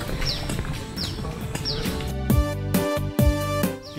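Horse on a family riding outing, with several sharp hoof clops in an uneven rhythm close by, alongside faint bird chirps and brief background chatter.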